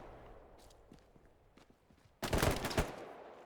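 Gunfire and explosions from the Hell Let Loose game in a 6v6 match, with scattered faint shots and steps that give way to a sudden loud burst of sustained firing and blasts.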